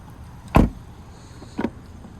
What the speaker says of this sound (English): Child locks are on the rear doors, lock, unlock.